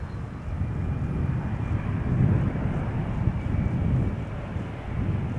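An Embraer airliner arriving at Amsterdam Schiphol rumbles as a low, steady broadband roar, moderately loud with wind-like wash and no talk.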